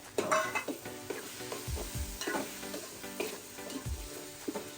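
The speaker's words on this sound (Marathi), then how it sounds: "मसाला तेलात चांगला भाजून झालाय" Spice masala roasts in oil for a village-style crab curry, with a moderate sizzle and repeated stirring strokes and soft scrapes against the pan, close and fairly quiet, without any voices.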